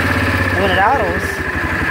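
A 2000 Yamaha Kodiak 400 automatic ATV engine idles in neutral, a steady loud low rumble running throughout, with a brief rising-and-falling whine from the spinning drive in the middle.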